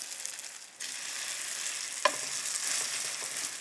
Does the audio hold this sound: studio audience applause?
no